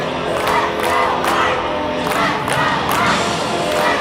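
A loud crowd at a Minnesota boys' hockey state final cheers continuously, its roar swelling in rhythmic, chant-like surges throughout.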